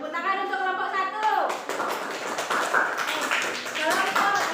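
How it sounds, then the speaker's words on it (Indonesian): Students applaud group 1 in a classroom, a burst of many hands clapping at once under a teacher's voice, the clapping rising after about a second and continuing steadily to the end. "tepuk tangan untuk kelompok 1"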